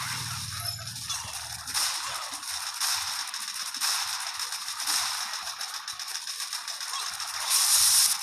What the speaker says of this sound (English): Yes, another shock knuckle hit.